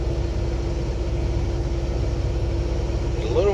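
Case IH Axial Flow combine unloading soybeans into a trailer in the field, a steady low engine and auger drone running throughout with a brief rising mechanical whine near the end.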